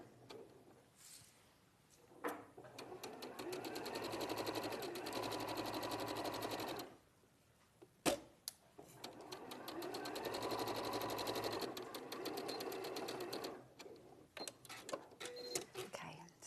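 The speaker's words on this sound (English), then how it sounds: "we're going to sew the side seams of the sleeve together" A domestic sewing machine stitches the side seams of a garment sleeve in two long steady runs of rapid mechanical whirring, broken by short pauses with small clicks and fabric handling, close and fairly quiet.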